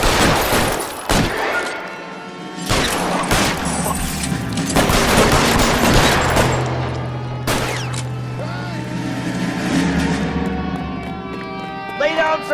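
Gunfire erupts in an LA Noire shootout, loud overlapping cracks and rapid bursts firing nearly nonstop, with voices and a low tonal score running underneath.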